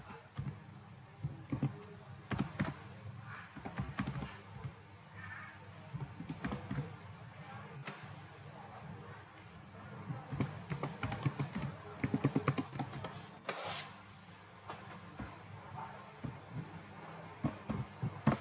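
Keys clatter on a computer keyboard in irregular bursts of typing with brief pauses, fairly quiet and close, as a Microsoft account login is entered during a Windows 10 to Windows 11 upgrade.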